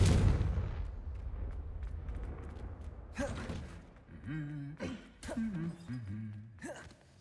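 A Confringo fire spell cast in Hogwarts Legacy bursts with a loud, booming blast at the start and rumbles away over a few seconds, followed by short voiced grunts and groans.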